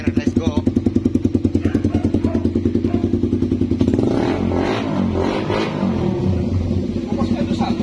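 A Suzuki Raider 150 motorcycle with an SC Project muffler on a customized elbow idles close by in a rapid, even pulse, then revs up into a rougher, louder roar, with a voice talking over it.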